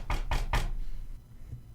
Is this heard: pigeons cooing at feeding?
no